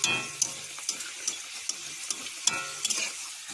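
Luchi frying in hot oil, a steady bright sizzle with scattered crackles and spatters, close and fairly loud, no talking.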